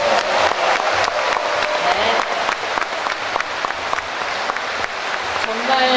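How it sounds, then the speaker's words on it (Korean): Dense, loud applause from a crowd in a university gymnasium at a party's gubernatorial primary event, continuous clapping filling the whole stretch with some voices mixed in. "우리 다 함께 박수 한번 나누면 어떨까 싶습니다."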